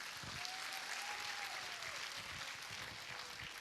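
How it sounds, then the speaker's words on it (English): Audience applause at a preschool annual day celebration: a continuous, dense burst of clapping from a large crowd, loud and steady for the whole stretch, with a faint sustained tone faintly audible beneath it. "A huge round of applause for Kids Castle Buzz 11."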